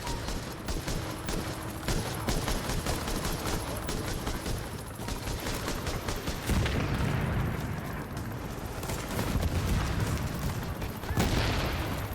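Sustained gunfire aimed at the player in Tom Clancy's The Division: dense, continuous volleys of shots and booming impacts crackle without pause, loud and close, with heavier surges partway through.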